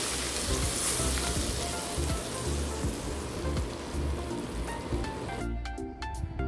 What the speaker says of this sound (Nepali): अब म यो तेल झानेको यो अचारमाथि हाल्दैछु।